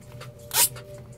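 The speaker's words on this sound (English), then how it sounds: "Now I'm gonna just rip it open." A product package for iLL Customz battery terminals torn open: one brief, sharp ripping burst, close and loud, over a low steady room hum.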